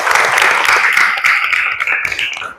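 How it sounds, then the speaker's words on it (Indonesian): A classroom group claps together, a loud, close burst of rapid hand claps that holds steady for a couple of seconds and then trails off. "Tepuk tangan untuk kita semua."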